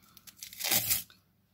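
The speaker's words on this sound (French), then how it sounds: "Je viens donc mettre du scotch" Carpet tape is torn from a roll for a planner, a single close rasping rip that swells and fades within about a second.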